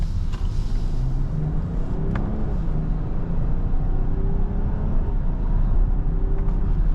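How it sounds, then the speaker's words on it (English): Cabin of a 2022 BMW 740i xDrive sedan swinging through a U-turn: a steady, close road and engine rumble with low tire and wind noise, even throughout with no speech. "quick U-turn here. See how the car feels on a U-turn."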